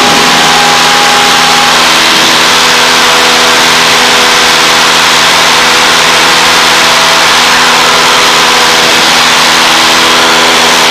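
A 180-horsepower light aircraft engine climbing at about 80 knots gives a loud, steady drone with constant tonal harmonics that runs unbroken through the whole stretch, with no talking.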